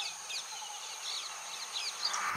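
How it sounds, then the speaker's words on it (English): An ashy prinia, a tiny bird of rice fields and waterside vegetation in a Sri Lankan wetland, gives a series of thin, high chirps, faint and repeated against a steady insect hum. "A little harder to see is the tiny ashy prinia."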